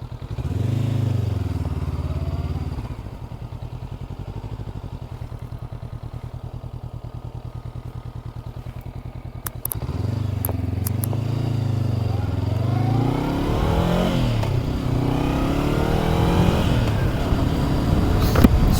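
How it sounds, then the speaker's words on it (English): A 2024 Honda CB500 Hornet motorcycle on a test ride, its engine humming steadily at speed, then rising through repeated throttle revs and gear changes, heard close from the rider's position with wind noise. "let's get started here with our actual test ride of the CB500 Hornet"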